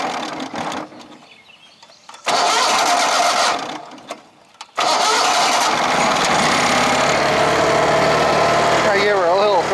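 A Toro Proline 724 Z older-style zero-turn mower engine cranks and catches after brief quiet gaps, then settles into a loud, steady running drone that carries on to the end, with a voice heard over it.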